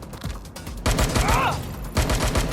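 Bursts of gunfire from a third-person shooter set in London, Watch Dogs: Legion, cracking out in short volleys over a busy game soundscape, with a brief whistling sweep in between.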